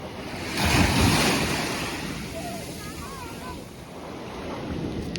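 Sea surf washes steadily onshore with a louder surge early on, wind rumbling across the microphone and faint voices in the background.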